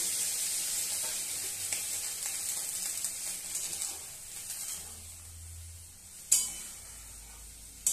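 A small splash of water goes into a hot pan of spiced chicken for chicken kosha. It sets off a close hissing sizzle that gradually softens, then a single sharp utensil clank near the end.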